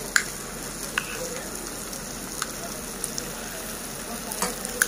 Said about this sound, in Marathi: आपण ह्या भाज्या आहेत त्या एकदा चांगल्या परतून घेऊया